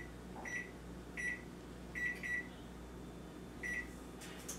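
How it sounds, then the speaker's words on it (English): A kitchen timer set for salmon gives about four short, clear electronic beeps at uneven spacing, close and fairly loud against a steady low background hum, with no voices. "And I'm going to set my timer for 18 minutes because I don't like no dry salmon."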